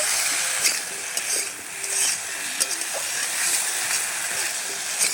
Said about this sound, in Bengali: এভাবেই আমি বেশ সুন্দর করে কষে নেব